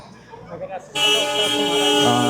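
A vehicle horn sounds on a street in Shimla, India, starting abruptly partway through as one loud sustained blast after faint, muffled background noise.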